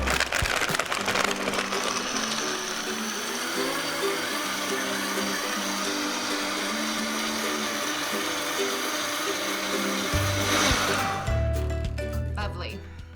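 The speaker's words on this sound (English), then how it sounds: "Now we'll just blend it up and be ready to go." Countertop blender whirring steadily through an almond butter and cacao smoothie with ice, a loud continuous grinding roar with rattling that cuts off near the end, followed by a brief clink.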